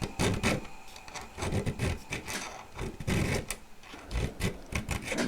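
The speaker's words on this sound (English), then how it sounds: "I'm just going to skim that with a file." A hand file rasping across a chainsaw chain's cutters, making a steady series of quick, close scraping strokes in a brisk rhythm with no talking.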